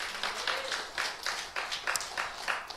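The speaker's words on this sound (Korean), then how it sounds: "하나님께 영광의 박수를 올립시다." A church congregation claps in a quick, regular rhythm, each clap burst close and clear, continuing steadily without voices.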